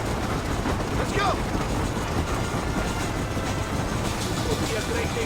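A train rolling on rails in Red Dead Redemption, a steady, dense rumble with rhythmic clatter throughout, mixed with wind-like noise and faint background activity.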